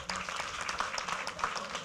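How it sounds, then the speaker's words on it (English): Brief round of applause from an audience at an association's general meeting, a short burst of overlapping claps at an even level throughout. "Actually, you need to give a bigger round of applause."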